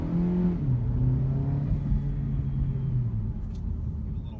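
Kia Niro Eco Hybrid SUV pulling away from a standstill: a low, steady drivetrain rumble and whir with a gently rising tone that eases off after a few seconds, heard from inside the cabin.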